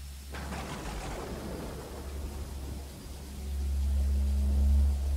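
A thunderstorm in an audiobook: a sudden crack of thunder rolls away under a steady wash of rain, then a deep rumble swells and holds toward the end, with no voices.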